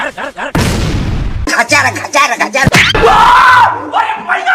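A loud cartoon firecracker blast bursts out with a crackling roar, followed by sharp bangs amid animated yelling and voices.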